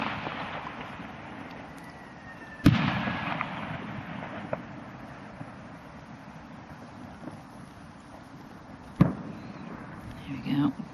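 Bonfire Night fireworks go off as two sharp, fairly distant bangs several seconds apart, with a low windy background between them.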